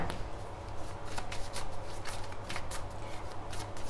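Tarot cards are shuffled and handled continuously for several seconds, a close, steady papery riffling and sliding with no speech over it.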